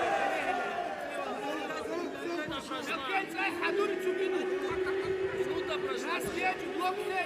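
Spectators at the 2021 IMMAF World Championships MMA fight in Abu Dhabi fill the hall with a constant murmur and chatter of crowd noise, while voices talk over it throughout.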